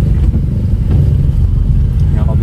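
A Wuling Confero car engine labors and revs on a long, steep, wet mountain climb in first gear, a loud, continuous low rumble close inside the cabin, with people talking over it.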